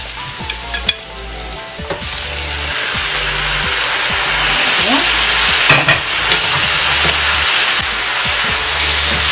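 Tomatoes tipped into a hot frying pan for pasta al forno, sizzling and frying steadily while a spoon stirs and scrapes with sharp clacks against the pan, close and loud throughout.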